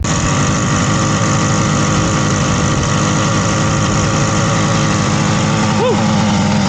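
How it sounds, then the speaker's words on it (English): A 1967 Yamaha YR1 motorcycle engine runs steadily at a fast, buzzing idle, loud and close throughout, with a constant vibrating drone and no other sounds on top. "we got the red bike running"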